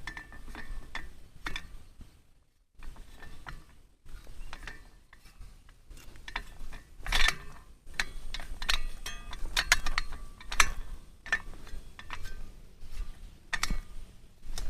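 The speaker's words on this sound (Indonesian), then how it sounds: "Lalu ini ada roda yang bisa berputar untuk memudahkan menarik selang." A metal hose reel wheel on a welded frame is turned to pull out a sprayer hose, giving a run of irregular ticking, clinking mechanical clicks with brief pauses, close and moderately loud.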